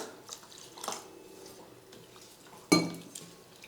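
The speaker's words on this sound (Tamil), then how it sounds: "ஒரே ஒரு முறை தண்ணியில் அவலை கழுவி எடுத்துக்கலாம்." Flattened rice (aval) being rinsed in water in a kitchen, with soft sloshing and trickling, a brief clatter of a vessel partway through, and quiet close handling noises.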